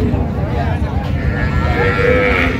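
Cows and calves moo loudly and continuously at a cattle market in Raniganj, Dinajpur, with a busy background murmur of the crowd.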